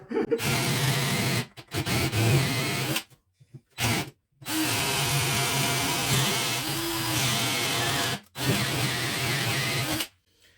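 A Parkside Performance cordless drill on a 20V 8Ah smart battery whines loudly in long bursts, stopping and restarting several times with short silent gaps between runs, running until it overheats.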